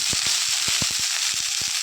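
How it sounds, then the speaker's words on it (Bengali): Soaked cashews and raisins hit hot ghee in a pan, giving a steady bright sizzle with scattered sharp pops and spits throughout, close and fairly loud, with no talking. "এবার ওতে দিয়ে দেবো ভিজিয়ে রাখা কাজু আর কিশমিশ।"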